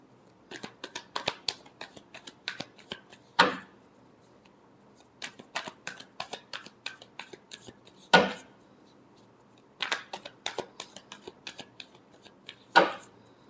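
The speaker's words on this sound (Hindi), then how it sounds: "last shuffle" Tarot cards shuffled by hand in three bursts of rapid riffling flicks, each ending with a sharp, louder squaring tap of the deck, close and clear with short pauses between bursts and no talking.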